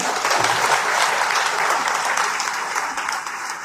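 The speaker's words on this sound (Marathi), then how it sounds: "टाळ्या" An audience at a Marathi political rally gives a steady round of applause, dense and sustained, with no voices over it.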